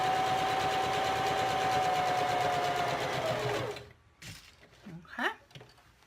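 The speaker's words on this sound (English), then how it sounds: "Okay, so I'm just sewing." Sewing machine stitching fabric for a toy bunny runs steadily and loudly for nearly four seconds, then stops, leaving faint handling noises and brief quiet speech.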